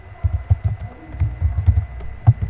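Soft keyboard typing on a computer while entering an SQL command, a quick irregular patter of muffled keystrokes, close and fairly quiet with no talking.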